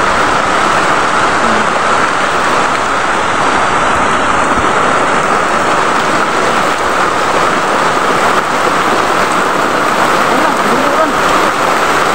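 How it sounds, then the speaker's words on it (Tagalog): Heavy rain pours down in a dense, unbroken hiss, loud and close, drumming steadily on surfaces for the whole stretch. "Ayan, sobra talagang ulan."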